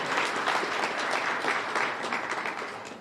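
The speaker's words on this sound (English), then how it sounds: "Give them a round of applause again, please." Audience applause at a Boston youth summer jobs announcement in an event venue: dense, steady clapping from a crowd, loud and sustained throughout, tapering slightly at the end.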